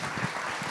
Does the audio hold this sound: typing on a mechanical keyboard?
no